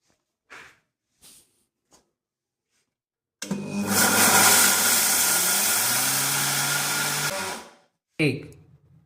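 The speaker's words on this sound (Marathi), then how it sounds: "मिक्सरमध्ये टाकून घेते" Mixer grinder grinding overnight-soaked rice into a batter, a loud steady whirring motor run of about four seconds, close by, that starts abruptly and cuts off, with brief voice fragments before and after.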